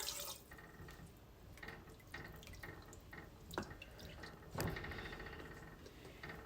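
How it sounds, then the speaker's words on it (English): Apple cider vinegar poured into a pot while making pressure-cooked bourbon barbecue pork rib tips: a faint, soft trickle with scattered small drips and splashes, quiet and close. "I'm going to add 1/4 cup of apple cider vinegar"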